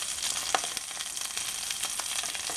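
Chicken and Brussels sprouts pan-frying together in a single pan, a steady broadband sizzle with faint crackles and pops running throughout, close and even in level, with no talking.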